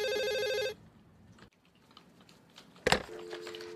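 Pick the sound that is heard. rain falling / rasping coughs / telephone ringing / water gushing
telephone ringing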